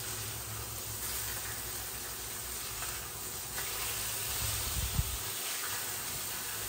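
Burgers frying in a stainless steel pan, a soft steady sizzle and hiss with a brief low bump, quiet and without talking.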